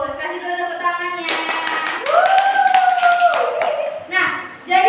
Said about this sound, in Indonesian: Kasih dulu tepuk tangannya.